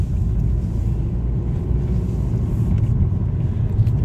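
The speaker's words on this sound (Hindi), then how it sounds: "गाड़ी आ रही है भाई, पास आ रही" A car's engine rumbles steadily on a mountain road at night, a low continuous drone that holds fairly loud and close throughout, with no talking.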